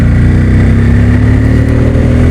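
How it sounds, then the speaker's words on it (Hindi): A Bajaj Pulsar N250 motorcycle accelerates hard from close range, its engine a loud, gritty, pulsing roar that stays strong throughout the brief burst. "अभी मैं अगर सडनली बाइक को पिकअप करूँगा ना"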